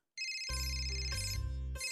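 A telephone ringtone plays loudly and steadily, its electronic melody repeating without pause.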